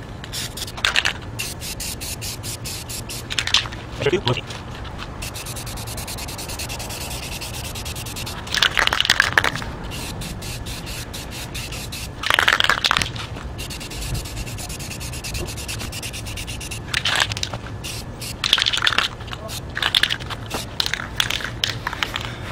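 Aerosol spray paint can misting paint onto interior car trim in a handful of short, evenly spaced hissing bursts, each lasting about a second, over a steady low background hum.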